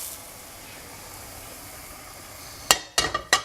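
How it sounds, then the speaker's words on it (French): Ground meat stirred into a simmering tomato sauce for lasagne, a steady low bubbling sizzle close by, ending in three sharp scrapes or knocks of a utensil against the pan. "Je mélange ma viande avec ma sauce."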